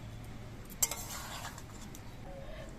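Cooked taro stolons being served into a bowl give a soft clink of utensil on dish, then faint scraping and handling noises in a quiet kitchen.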